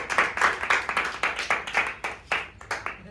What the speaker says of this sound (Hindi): सौरव राज जी के लिए जोरदार तालियां।